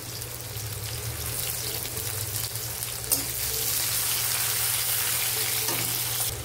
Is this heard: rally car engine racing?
no